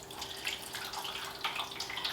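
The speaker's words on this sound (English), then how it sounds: "we're going to cover the bottom of it with water." Water trickles and splashes into a roaster pan for a cheesecake water bath, a close, fairly quiet, continuous pour with small irregular splashes and no talk.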